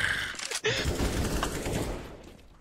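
Counter-Strike: Global Offensive gunfire rattles in a dense burst at the start, a sharp shot near half a second, then game ambience and scattered clatter fade out, no voices.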